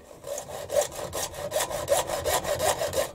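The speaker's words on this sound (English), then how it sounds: "couple of hacksaw cuts" A hacksaw cuts metal stock for a shop-made lead screw protector on a Warco WM180 lathe, in steady rhythmic back-and-forth rasping strokes, close and loud, with no voices.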